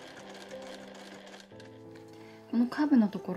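A sewing machine stitches bias tape onto a curved vanity pouch, its motor humming steadily in close, even runs with a short pause and change of pitch midway, then a louder burst near the end.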